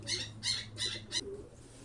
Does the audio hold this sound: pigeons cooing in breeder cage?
yes